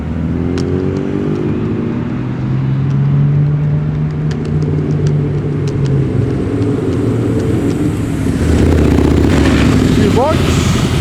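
Cars leaving a car show in Penrith rumble and rev loudly one after another, engines rising and falling nearby with a sharp high rev near the end, over crowd chatter and voices.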